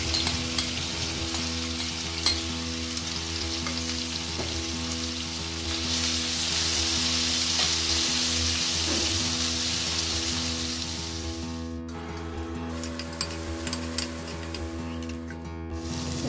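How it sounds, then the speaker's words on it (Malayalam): Ivy gourd stir-fry with masala fries in oil until crisp, giving a continuous close sizzle that swells in the middle and is broken near the end by several stirring scrapes. "ഇപ്പോൾ ഇത് നല്ല ക്രിസ്പി ആയിട്ടൊന്ന് നമുക്ക് ഒരു അടിപൊളി മെഴുക്കുവരട്ടി ഉണ്ടാക്കാം."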